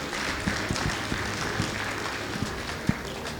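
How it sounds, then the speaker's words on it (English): Audience applause rises as the managing director of Kaizen Institute walks onto the stage at a CEO summit, a steady wash of clapping at moderate volume with a few sharper, louder claps standing out. "A round of applause as he comes."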